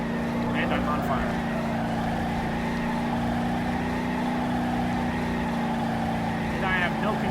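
A damaged car's engine in BeamNG.drive drones steadily at high revs with the accelerator held down, continuous and loud throughout, while someone talks over it.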